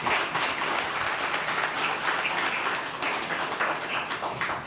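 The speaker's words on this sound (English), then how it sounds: "let's give this esteemed panel of lawyers a rousing round of applause" Sustained applause from an audience at an anniversary commemoration event for the James Meredith Walk Against Fear, thanking a panel of lawyers; steady dense clapping fills the whole stretch, loud and close, with no speech over it.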